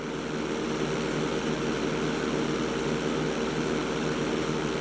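A propeller airplane engine drones loud and steady during takeoff in the video game GTA 5, one unbroken roar with no talking over it.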